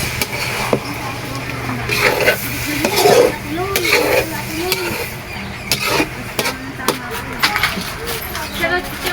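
A spoon stirs a sauce mixture for tiger skin eggs in a pan, giving repeated scraping and clattering strokes over a low sizzle, with a voice speaking at times between the stirs.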